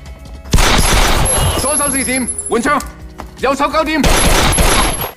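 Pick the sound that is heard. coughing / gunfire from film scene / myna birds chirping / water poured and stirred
gunfire from film scene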